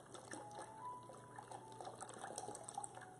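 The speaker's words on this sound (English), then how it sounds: "We're going to go ahead and pour them right over the artichokes." Bone broth pours over artichokes in a home kitchen, a steady, soft liquid trickle and splash running for a few seconds without talk.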